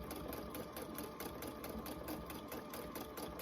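A sewing machine thread-paints a fabric quilt, running close and steady with a fast, even mechanical chatter of needle strokes and a constant motor hum, with no talking.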